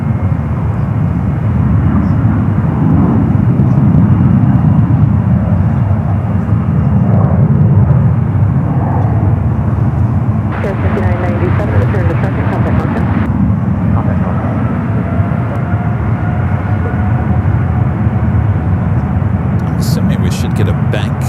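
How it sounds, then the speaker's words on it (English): A United Boeing 777-300ER bound for Hong Kong takes off from runway 28 left at San Francisco International, its engines a loud, sustained rumbling roar with a voice speaking briefly over it. "Next takeoff 28 left, followed by that United 777 at 300ER heading to Hong Kong."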